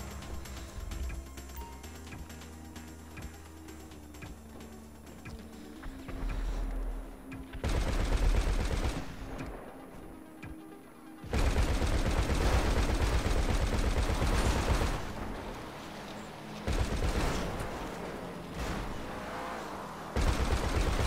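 Sustained machine-gun fire from a GTA 5 Online session on Xbox One, loud and continuous with rapid rattling volleys that swell and drop in several long stretches, no talking over it.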